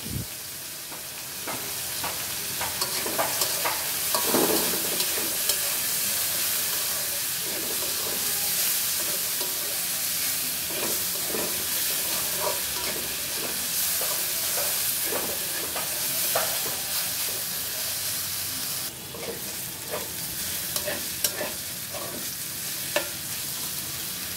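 Gima greens frying in a pan with salt and turmeric, a steady close sizzle and hiss broken by repeated scraping, clattering stirs of a utensil against the pan throughout, with no voices.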